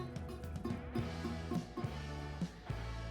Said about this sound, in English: that's why it creates a buzzing sound like this